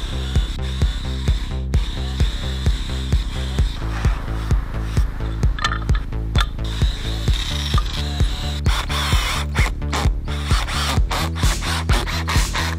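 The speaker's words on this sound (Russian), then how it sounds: "В множестве заготовок под них придется засверлить большое количество отверстий." Power drill boring holes in wooden workpieces through a template, a rhythmic series of short bursts repeating about once per second, close and clear with no talk.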